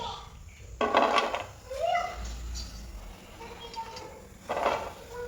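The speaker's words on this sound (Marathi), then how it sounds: "छान असा खरखर असा मस्त सोयाबीनच्या वड्यांचा आवाज येत असेल तुम्हाला" Crisp fried soya chunks rattle and scrape against a metal pan in a few short bursts, close by, with a voice speaking in between.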